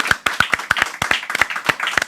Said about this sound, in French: on va commencer très fort avec Louise, qu'on peut déjà applaudir.